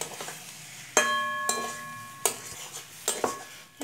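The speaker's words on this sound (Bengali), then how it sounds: "এরপরে আমরা মশলাটাকে ভালোভাবে কষিয়ে নিচ্ছি" Spice paste with ground tomato being stirred and fried in a pan for a vegetarian potato dum, with several sharp clinks of a spoon against the pan over a soft sizzle.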